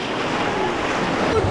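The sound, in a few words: big river waves splashing around a boat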